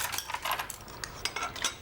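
Bowls and chopsticks clink as they are set out on a dinner table at home, a quick series of light ceramic and wooden taps and knocks, close and fairly quiet, with no voices.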